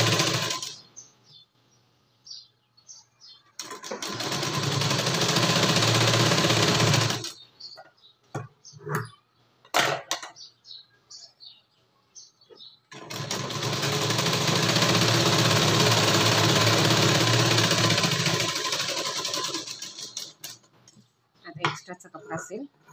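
A sewing machine stitches a shawl collar blouse in two long, loud runs of steady motor whir and needle clatter, separated by a quieter stretch of handling knocks and taps.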